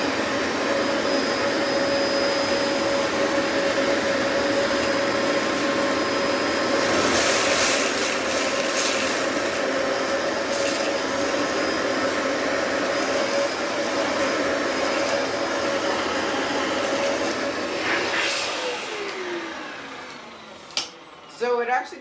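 A Dyson DC14 vacuum cleaner runs with its brush roll off while picking up rocks, giving a loud, steady motor whine with occasional rattles and clatters of stones being sucked in, then cuts off near the end.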